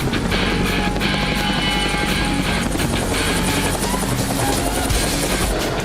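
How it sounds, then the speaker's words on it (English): A helicopter flying at low level: rotor thuds and engine roar fill the air continuously, loud and close overhead, with no voices. "flying helicopters at a low level"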